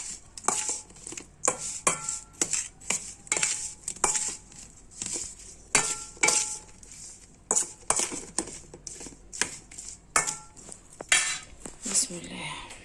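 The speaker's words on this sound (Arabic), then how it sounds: "هنقلب كل المكونات بقى دي مع بعضيها" Mixed stuffing ingredients turned in a pot with a spoon, giving repeated clinks and scrapes of metal on cookware in an uneven rhythm, close and moderately loud, with some quiet speech in between.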